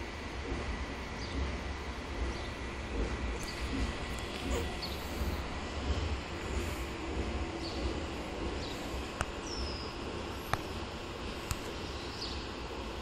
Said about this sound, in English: There goes the Palmetto, train number 89, southbound